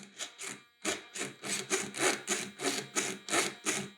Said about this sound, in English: that jittering servo on a model this big and heavy and fast, that's definitely gonna get replaced